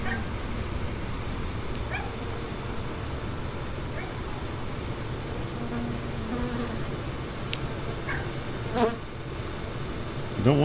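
A steady, dense hum of many honey bees buzzing close by outdoors during hive removal from an old house, continuous throughout, with a brief louder rustle near the end.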